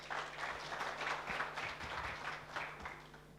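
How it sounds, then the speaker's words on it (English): An audience applauds a team taking the stage at a hackathon: steady, dense clapping, fairly close and loud, filling the whole stretch without a break. "Please, a big round of applause."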